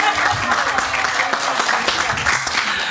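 An audience at a groundbreaking ceremony for a food redistribution center applauds, a dense, steady clapping that holds for about three seconds at fairly loud, even level, with no voices standing out over it.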